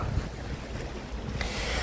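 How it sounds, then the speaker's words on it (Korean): Sea waves along a coast wash in with a low, continuous surge mixed with gusty wind noise, brightening into a hiss near the end; no one speaks. "잠시 파도 소리에 침묵하자."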